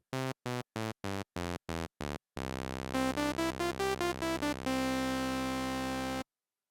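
A bright, buzzy sawtooth synth plays several short staccato stabs, then a sustained tone with a quick rising and falling melody over a steady drone.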